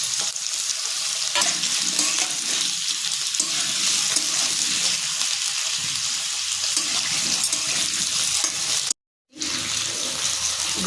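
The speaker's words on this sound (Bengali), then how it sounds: "আগে আমি আলুটাকে ভেজে নেব" Washed potatoes fry in hot oil in a pan for a Bengali-style shukto, giving a steady, dense sizzle with stirring throughout and a brief drop to silence near the end before the hiss resumes.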